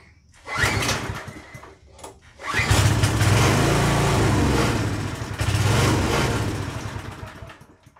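Small engine on an MTD tiller with a rusty tank and bad carburetor, running lean on full choke; it sputters to life in short bursts, then runs roughly for a few seconds, surging and fading before dying out.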